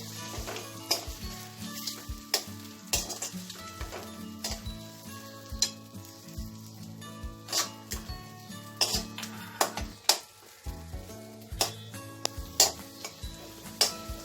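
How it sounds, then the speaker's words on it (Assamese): Spices and potatoes sizzling in a pan for masoor dal curry, stirred with a utensil that scrapes and clicks against the metal in an uneven rhythm, close and fairly loud, with no talking. "এইখিনি মই গোটেইখিনি ভালদৰে লৰাই দিম।"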